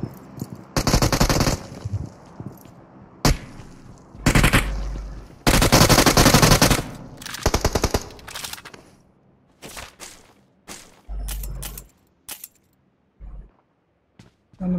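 Automatic rifle fire from the shooter game BGMI rips out in several loud, close bursts of varying length, separated by quieter gaps with faint game ambience.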